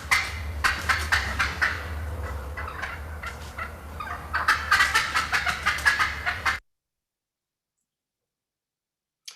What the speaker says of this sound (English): the fly down cackle is a very cool vocalization